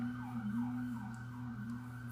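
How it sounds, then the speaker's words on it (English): A wailing siren rises and falls repeatedly in the distance, faint and steady over a low engine-like hum. "Y'all hear the sirens?"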